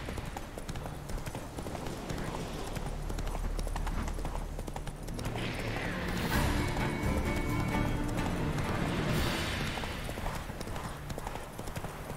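Roach, a horse in The Witcher 3, gallops with rapid rhythmic hoofbeats that run continuously at close range, the clatter swelling a little midway over a low ambient bed.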